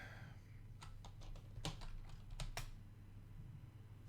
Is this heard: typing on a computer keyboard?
yes